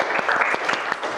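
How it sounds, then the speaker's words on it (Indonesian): Brief burst of classroom applause from students for a classmate during a lesson on igneous rocks, a close, lively clatter of clapping hands filling the short moment. "Tepuk tangan buat April."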